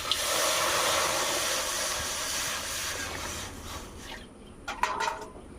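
Water poured into a hot kadai while steaming potol bhapa, giving a loud, steady hiss that fades over several seconds into softer sizzling crackles.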